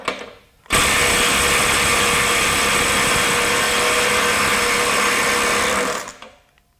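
A DeWalt DCF902B subcompact impact driver on a full charge at 75 foot-pounds hammers a stuck fastener free in one loud, sustained rattling burst of about five seconds, then cuts off.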